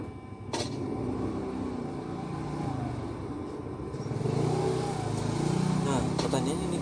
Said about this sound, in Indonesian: ada suara motor cok